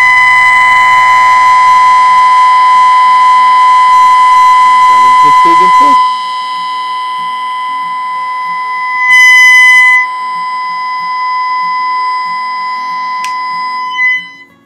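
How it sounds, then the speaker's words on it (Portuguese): A steady 1 kHz sine test tone plays loud through a loudspeaker driven by a TDA2050 amplifier, holding one pure pitch; for about a second near the middle a faint voice speaks beneath it, and the tone cuts off abruptly near the end. "o som de 1 kHz senoidal"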